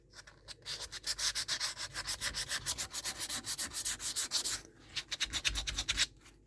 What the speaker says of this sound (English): If it's really thin on top, if I sand it a bit hard, it vanishes.